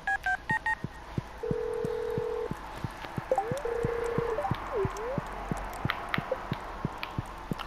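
Telephone dialing in Stardew Valley: a run of quick keypad tones followed by longer steady beeps, set over a regular ticking pulse of soft game sounds, moderately quiet.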